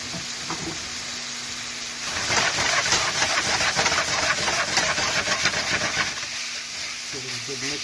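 Chicken pieces seasoned with Montreal steak spice sizzle in oil in a pan while being tossed and stirred, a steady close hiss that swells loudly in the middle and eases off near the end.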